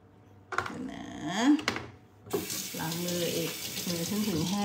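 Tap water runs as hands are washed under it, with splashing in a sink that starts after a few soft knocks and continues steadily and close by.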